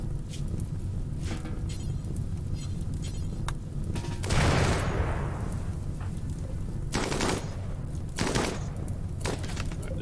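Autocannon turrets firing in RimWorld, a steady rattle of rapid mechanical gunfire under a continuous low rumble, with several sharper, louder bursts punching through near the middle and toward the end.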